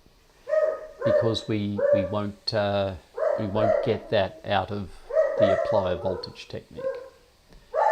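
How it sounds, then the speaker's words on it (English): A dog barks and yips excitedly in the background while a man lectures on electrical circuits, the animal's noise mixed underneath his continuous talking. "I apologise for my dog going ballistic in the background."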